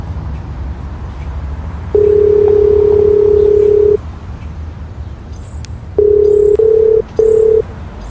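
A phone line gives a repeated call-progress tone as a call fails to connect: one long steady two-second tone, then three shorter beeps after a pause, loud over a low background hum.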